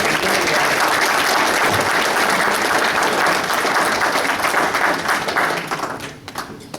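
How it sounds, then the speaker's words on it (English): An audience at an evening gathering gives a dense, sustained round of applause for food service staff, loud and continuous before tapering off into scattered claps near the end. "I'd like to round of applause for our food service folks tonight."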